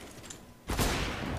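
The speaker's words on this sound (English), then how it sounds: "That seems like a shot that shouldn't have missed to me" Gunfire in Counter-Strike: Global Offensive deathmatch, a sudden loud burst of rapid shots after a quiet moment and continuing to the end, with no talk over it.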